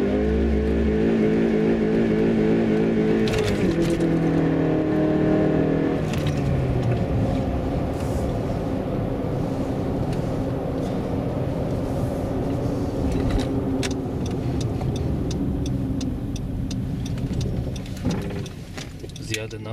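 A Honda CR-V with traction control switched off revs hard as its wheels spin in snow. The engine sound is loud and sustained, rising and falling throughout, with a steady rumble underneath.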